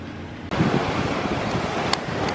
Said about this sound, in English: pretty much these waves here are very intense